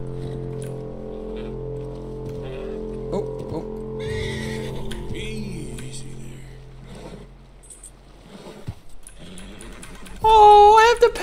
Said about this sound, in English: Oh, there's a horse. Can you take the horse?